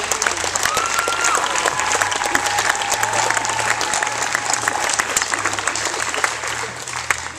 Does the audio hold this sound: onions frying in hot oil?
no